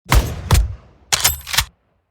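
A gun firing in a Roblox game, four sharp loud shots in two pairs with a short pause between, close and clear with no talk.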